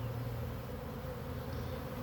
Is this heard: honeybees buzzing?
yes